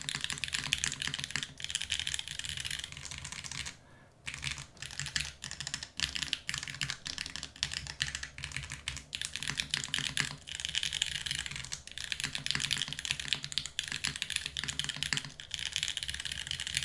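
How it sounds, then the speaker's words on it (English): Steady, continuous typing on a mechanical keyboard fitted with GMK keycaps, crisp key clacks in a fast rhythm with a brief pause, close and alone without talk. "Spacebar sounds a bit better, but alphas aren't as good on the GMK, I think."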